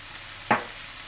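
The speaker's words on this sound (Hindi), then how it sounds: "और इसे थोड़ा सा भून लें।" Turmeric powder, salt, crushed red chili and garam masala for a Punjabi samosa filling fry in a pan, giving one brief, close sizzling burst against a quiet background.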